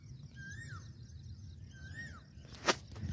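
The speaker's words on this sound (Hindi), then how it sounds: "और कोयल की आवाज़ सुनो आप" Asian koel calling outdoors amid greenery: two clear, rising-then-falling whistled calls about a second and a half apart, fairly distant over a low background rumble, followed by a short sharp clatter near the end.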